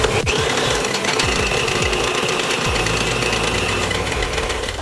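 An electric mixer beats coconut cream cupcake batter, giving a loud, steady motor whine close by with occasional rhythmic bumps as the beaters work through the mix.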